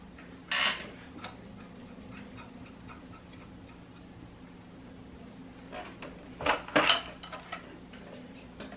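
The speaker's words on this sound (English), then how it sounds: "Grab my 2 wrenches." Two metal wrenches are picked up at a Comgrow Robo CNC machine, making a couple of brief bright metallic clinks, one early and a cluster later, close and otherwise quiet.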